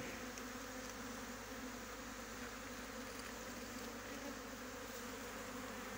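A honeybee swarm sitting low on the ground among broad bean plants makes a steady, dense buzzing hum at close range, unbroken and even in level throughout while the bees are being coaxed into a hive.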